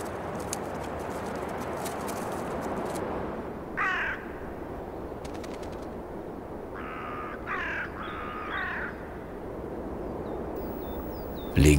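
Common ravens give several harsh, croaking calls from a clifftop nest site, scattered short bursts over steady background rumble, with a voice narrating underneath.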